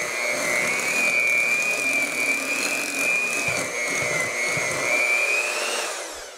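An electric mixer beats pumpkin cheesecake batter in a home kitchen, giving a steady, close, high-pitched motor whine that holds throughout and fades out at the very end.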